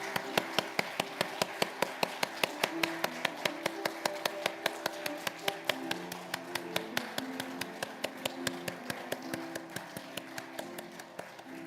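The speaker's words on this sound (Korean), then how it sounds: "하나님께 영광의 박수 올려드리겠습니다" A church congregation at Sunday service claps in unison, sharp hand claps in a fast even rhythm over soft sustained music throughout.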